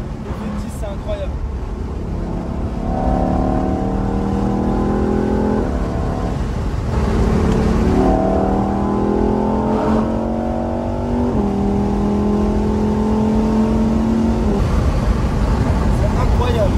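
A 2021 Lamborghini Huracan EVO's V10 engine revs hard through repeated rising climbs, loud and close from inside the car, each pull swelling and dropping before climbing again, while occupants talk excitedly over it.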